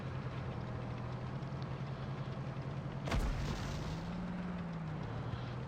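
A single tank cannon shot in the World of Tanks Blitz game, a sharp booming blast about midway through, set against a steady engine hum that continues before and after the shot.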